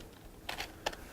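A few soft, close key clicks as someone types one-handed on a computer keyboard, two short bursts of taps separated by a brief pause over a faint background hum.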